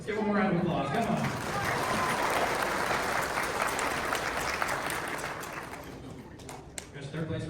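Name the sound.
crowd applause at a truck show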